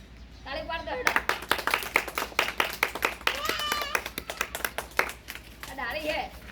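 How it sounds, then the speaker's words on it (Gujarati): Hands clap in a sharp, steady run of close, loud claps, with a voice speaking over them at the start and end. "કાઢી ગયા તાળી પાડ દો"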